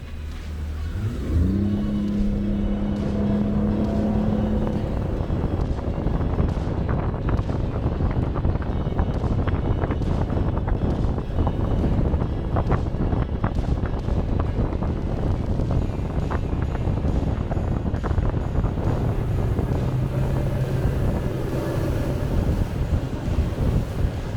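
A Suzuki 250SS outboard motor runs on a boat, making a loud, steady engine roar that rises in pitch near the start and holds there, mixed with heavy wind buffeting and water rush, and no voices.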